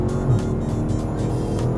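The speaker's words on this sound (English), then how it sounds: "Oh man, that engine note." Deep, rumbling exhaust note of a Dodge Challenger 392 Hemi Scat Pack Shaker V8, a loud steady throaty drone with slight rises in revs, heard close.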